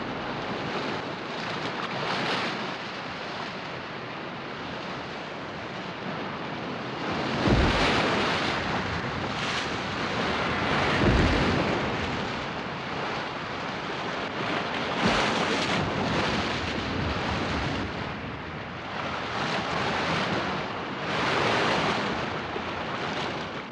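Ocean waves break and wash ashore in the Falklands where young rockhopper penguins enter the sea. Surf rumbles steadily under gusty wind, with several louder crashing waves. There is no speech.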